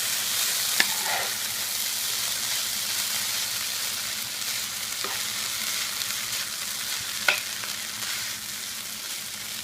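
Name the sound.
potatoes frying in a pan and being turned over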